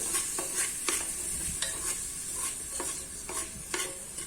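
Washed rice sautéed in ghee with spices for khichdi, stirred in a pot with repeated sharp spoon scrapes and clicks at an uneven pace over a steady close sizzle.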